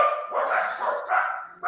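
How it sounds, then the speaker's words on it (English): Several dogs bark in a continuous, overlapping run at close range, loud and steady for a couple of seconds with no talk over them. "Sorry about the dogs barking."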